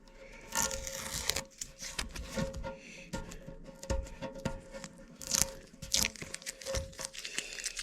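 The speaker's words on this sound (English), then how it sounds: "now we're pulling the tape right here" Masking tape peeling off a vintage Harley-Davidson gas tank during custom paint artwork, heard as close, irregular crinkling and tearing rips in bursts across the whole stretch.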